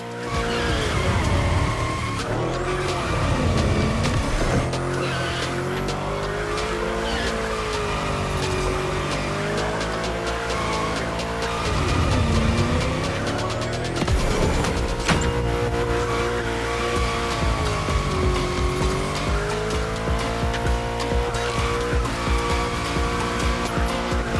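A car drifting in The Crew Motorfest, with a loud, steady engine note and long wailing tire squeals that rise and fall through continuous slides around bends, running for the whole stretch without speech.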